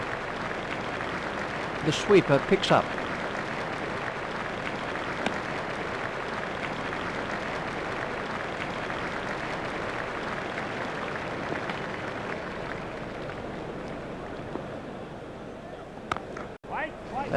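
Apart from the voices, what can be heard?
crowd applause in a cricket video game simulation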